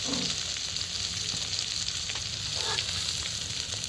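Cauliflower fries in a pan with a steady, dense sizzle and crackle, close and even throughout, with occasional light stirring scrapes and no voices.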